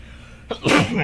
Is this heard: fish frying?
no